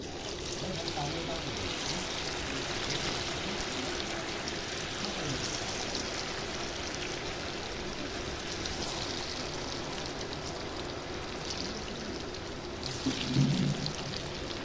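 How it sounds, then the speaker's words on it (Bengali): Potato pakoras frying in hot oil give a steady, close sizzling hiss, like light rain or a trickle, running throughout with a brief louder bubbling burst near the end. "এইভাবে আলুর পকোড়াগুলো সব আমি ভেজে নেবো, একটু উল্টিয়ে দেবো।"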